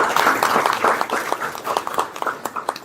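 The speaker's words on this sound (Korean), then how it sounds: "힘찬 박수 부탁드립니다" Applause at a Korean capital-markets policy forum as a presidential hopeful is introduced: a room of clapping hands, fairly close and steady, with dense overlapping claps fading slightly toward the end.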